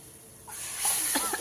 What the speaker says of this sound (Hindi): तो गैस तेज है, तो हमारा तड़का हो गया है। तो ये डाल दिया हमने तड़का।